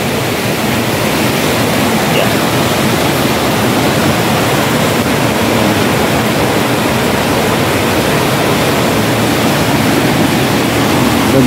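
A swollen river in Bacoor, Las Piñas rushes during Typhoon Goring in a dense, continuous roar of water, loud and unbroken throughout.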